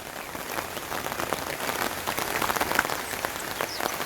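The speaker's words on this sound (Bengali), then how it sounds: "রান্না শেষ হতেও না হতেই দেখেন বৃষ্টি নামলো" Steady rain falling on a surface outdoors, a dense continuous patter with scattered louder drops, close and even throughout, with no voices.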